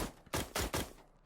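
Three quick, punchy shots fired one after another from a player's weapon in the PS4/PS5 game Dreams, each a short loud burst with a brief tail, with no speech over them.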